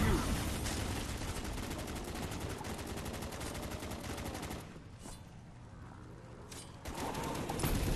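Rapid automatic gunfire in the Call of Duty zombies map Kino Der Toten, a dense sustained burst of shots that briefly thins out near the end before resuming.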